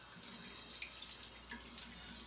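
A faucet runs steadily into a sink while face cleanser is rinsed off during a skincare routine, with soft splashing over the continuous quiet flow.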